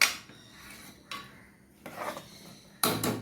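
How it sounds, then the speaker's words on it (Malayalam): Semolina (rava) being stirred in a pan over a low flame, with a few separate bursts of scraping and rubbing from the spoon against the pan's bottom, close and fairly quiet, with no one talking. "നന്നായിട്ട് ഇളക്കി കൊടുക്കുക, അടി പിടിക്കാതെ നല്ല ശ്രദ്ധിക്കണം."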